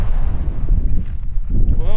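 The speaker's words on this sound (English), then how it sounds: "Whoa, it's windy." Strong outdoor wind buffeting a microphone during a trapping outing, loud gusty low rumble filling the whole stretch, with a brief voice near the end.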